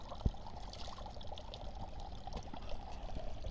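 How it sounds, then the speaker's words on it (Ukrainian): Water trickles and burbles steadily from a small natural spring in Iskrivka, Ukraine, a soft continuous flow with faint outdoor ambience. "І тече, тече вода"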